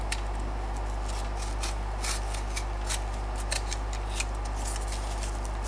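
Scissors snip out a sculpture design template piece in slow single strokes. The crisp cuts are close and repeated over a steady low hum, with no talking.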